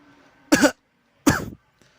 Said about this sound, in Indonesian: Syafiq terbatuk-batuk karena kue itu terlalu pedas hingga terasa masuk ke dalam hidungnya.